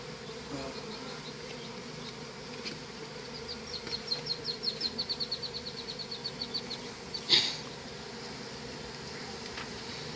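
Bees hum around an open beehive in a steady low drone, with a nearby individual bee's buzz swelling and fading in a series of pulses before a brief louder burst close by.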